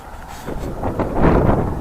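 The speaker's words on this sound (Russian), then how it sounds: "Тем более еще ветер здесь, пыль поднимает" Gusty wind in China buffeting a microphone and raising dust, a low rumbling roar that swells and grows louder toward the end, with no voices.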